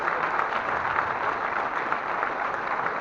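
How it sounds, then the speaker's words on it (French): Steady applause from an audience fills the room, dense clapping continuing at an even level throughout. "On peut applaudir Christophe."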